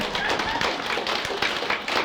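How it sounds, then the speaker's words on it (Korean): Temple audience at a Buddhist sermon clapping in a brief burst of scattered, overlapping handclaps, moderately loud, with some voices mixed in. "박수 치라."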